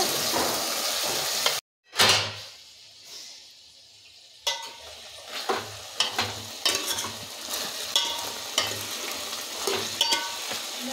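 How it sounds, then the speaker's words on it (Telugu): Curry cooking in a pan over a village kitchen fire, with a steady low sizzle and bubbling plus repeated stirring scrapes and clatters, after a brief silent gap. "కూర అయితే మంచిగా ఉడుకుతుంది కదా."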